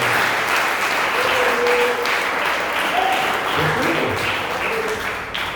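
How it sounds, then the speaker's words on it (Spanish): A church congregation applauds during a sermon, a steady wash of clapping that holds throughout, with faint voices and tones sounding underneath. "Denle un aplauso al Señor."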